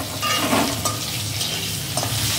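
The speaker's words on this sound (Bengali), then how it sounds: "এবার মা দিয়ে দিচ্ছে লবণ, সামান্য হলুদ দিল, দিয়ে এখন এটাকে ভালো করে নাড়তে হবে" Fish curry with salt and turmeric being stirred in a pan, a gentle sizzle with a few stirring scrapes, close and moderately loud.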